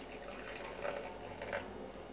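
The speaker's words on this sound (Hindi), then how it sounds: "इसी के साथ इसमें डालूंगी थोड़ा सा पानी" Water is poured into a mixer jar holding chilli and ginger, a soft, faint splashing trickle that runs steadily for about two seconds.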